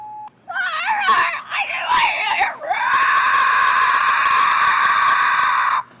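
A human voice imitates a velociraptor call, warbling shrieks and squeals that end in a long, loud, sustained screech, all close up and with no other talk.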